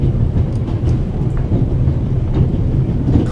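Moving steam train in a video game, heard from near the coal car and driver's cab: a loud, continuous low rumble with faint rhythmic clatter, steady throughout with no voices.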